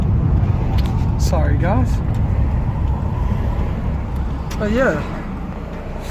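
Steady low car engine and road rumble inside a moving car, continuous under a person talking briefly, with two short whistled or squeaky tones rising above it.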